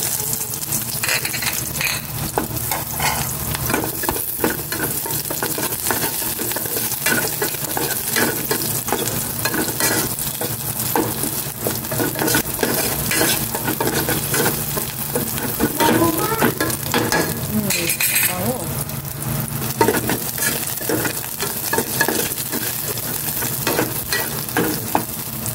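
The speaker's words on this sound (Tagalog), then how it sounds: "Gisa ko na rin itong sibuyas." Onion sautés with garlic in a hot pan for adobong atay at balunbalunan, a steady loud sizzle with frequent stirring and scraping throughout, no talk over it.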